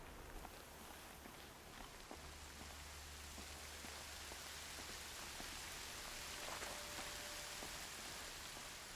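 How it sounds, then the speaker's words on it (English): Steady rain falls across a game world in Horizon Zero Dawn, a continuous even hiss of drops with scattered patters on surfaces, moderately loud and alone with no talk. "Oh, and it's fucking raining."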